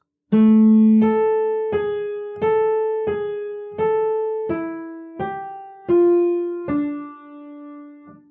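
Solo piano plays a short beginner phrase from Beethoven's Für Elise, nine or so clear single notes struck one after another at a steady, moderate pace, each ringing and decaying, close and alone with no talking.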